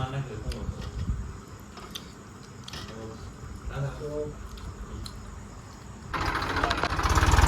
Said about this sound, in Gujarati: આ બાદ ટ્રેક્ટર ખાલી થાય છે